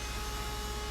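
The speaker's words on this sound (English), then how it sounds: "I used a trim router to round over the edges" A trim router rounds over the edges of a wooden piece for a hose reel, giving off a steady, fairly faint whining drone with no pauses.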